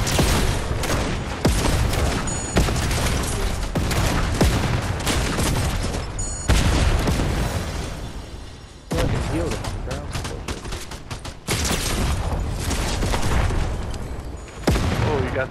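Sticky grenade explosions and bursts of gunfire from a first-person shooter video game, loud repeated booms and shots in dense clusters, with brief quieter gaps and occasional talk mixed in.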